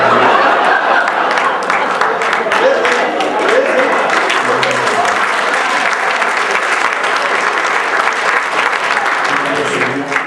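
An audience at an Urdu mushaira poetry gathering in Hyderabad applauds, a dense, steady roar of many hands clapping that holds at full strength for about ten seconds.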